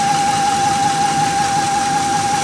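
A Ford F150 engine runs with a steady high whine over a continuous rumbling idle and vibration, loud and close, with no talking.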